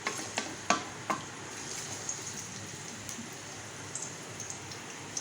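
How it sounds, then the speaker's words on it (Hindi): Garlic frying in oil in a home kitchen pan, a steady soft sizzle broken by a few sharp crackles and spatters near the start, close and alone. "और यहाँ पे पहले लहसुन डाल के मैं थोड़ा सा इसको ऑयल में भून लूँगी।"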